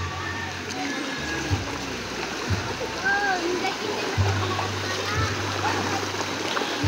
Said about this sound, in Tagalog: Naririnig ko na po yung agos ng tubig.